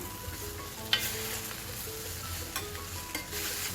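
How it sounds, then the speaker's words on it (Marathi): Sabudana khichadi sizzles steadily in a pan while a spoon stirs it, with soft scraping and a few small clicks over a constant close frying hiss. "हलवून घेऊ परत एकदा"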